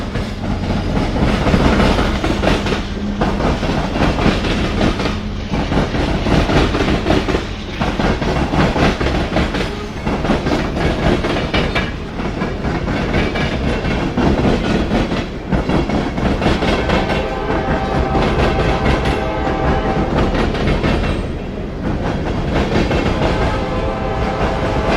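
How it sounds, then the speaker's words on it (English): A westbound CSX freight train rolls steadily past on the Columbus subdivision in Ohio, its loud continuous rumble and rhythmic clickety-clack of wheels over rail joints filling the scene from start to finish, with no voices. "A westbound CSX train heads compass north on the Columbus sub between Columbus and Fostoria,"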